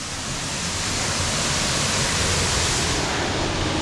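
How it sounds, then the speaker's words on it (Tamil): Small waterfall at Pomma Kida falls near Vaniyambadi, a steady, broad rushing roar of falling water, close and loud with no break. "கீழேயும் பார்த்தீங்கன்னா ஒரு அழகான ஒரு குட்டி ஃபால்ஸ்"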